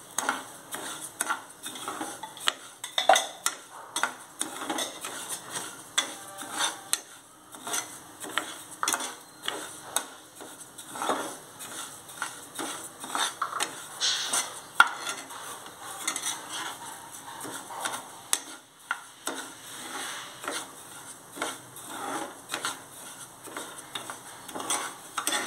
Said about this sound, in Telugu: జస్ట్ కొంచెంసేపు రవ్వని వేపుదామండి